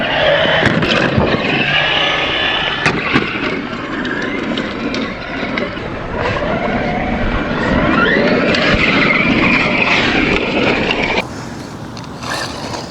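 Traxxas Mini Slash 4x4 RC truck driving outdoors, a steady whine of small electric motor with tire scuffing and skids, loud and close, running continuously for the whole stretch with brief dips.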